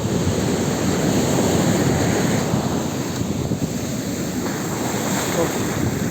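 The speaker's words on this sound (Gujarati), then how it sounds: "મોટી મોટી ઓટ અને ભરતી આવી રહી" Sea waves surge and wash ashore at Madhavpur beach near Porbandar on the Gujarat coast, a steady, loud roar of surf with heavy wind buffeting the microphone throughout, no voices heard.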